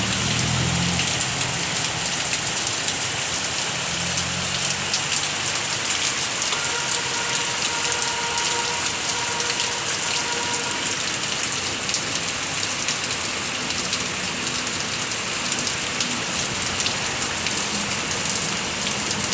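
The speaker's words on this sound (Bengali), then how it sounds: "অঝোরে বৃষ্টি শুরু হয়ে গেছে" Heavy rain pours down in a dense, continuous hiss, loud and steady throughout, drumming on surfaces nearby with no voices.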